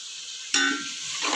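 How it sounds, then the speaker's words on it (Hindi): Masala sizzling in a pan with salt and turmeric for chana rice, a steady close frying hiss that jumps louder as ingredients hit the hot oil and stays bright throughout. "मसाला अच्छे से भुन चुका है"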